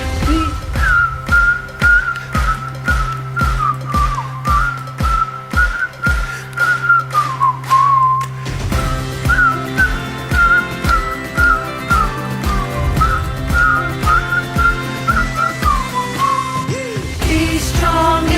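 A group whistles the melody of the worship song 'Be Strong in the Lord' at a vacation Bible school, along with backing music and a steady beat; the clear whistled tune carries throughout, with no voices.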